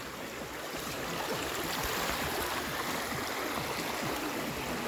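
Floodwater from a fresh village flood runs steadily through a yard and around a house, a continuous broad rushing wash that stays close and even for the whole stretch, with no voices over it.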